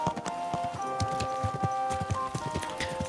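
In the video game Kingdom Come Deliverance 2, a horse walks with a steady clip-clop of hooves, close and fairly soft, over a quiet background hum.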